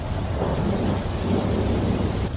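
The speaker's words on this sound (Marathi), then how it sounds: "तितक्यात ढगाळ वातावरण पावसात बदललं आणि मुसळधार पाऊस" A thunderstorm with heavy pouring rain on an island, a dense, loud, continuous roar of rain with rumbling thunder underneath, used as a sound effect in a horror story, with no voices.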